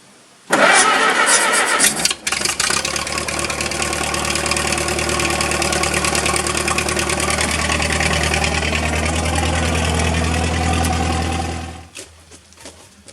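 A Massey Harris 44 Special tractor with a seized choke cable cranks and fires at once, then runs at a loud, steady, close-up idle for about eleven seconds before shutting off, with no talking.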